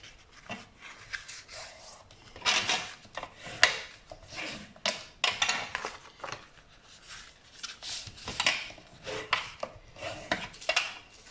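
Scissors cut through paper for a miniature bookshelf craft in a series of close, uneven snips and rustles, with quiet pauses between the cuts.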